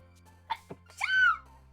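A single sneeze with a short wheezy intake, then a sharp, rising-falling burst, close and fairly loud against a quiet background.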